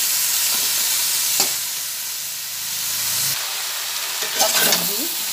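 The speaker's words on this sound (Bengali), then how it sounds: "সব সবজি আর মশলা একসঙ্গে ভেজে নিচ্ছি।" Mixed vegetables and spices fry together on a high gas flame, making a loud, steady sizzle and hiss with bursts of stirring and scraping, and nobody talks.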